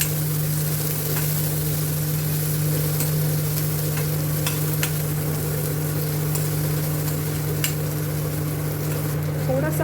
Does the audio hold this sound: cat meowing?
no